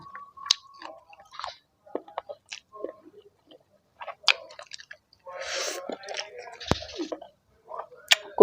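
Close, crisp crunching and chewing of spicy pounded snail salad in irregular bursts, with wet squishy bites and occasional louder crackles, punctuated by brief quiet gaps.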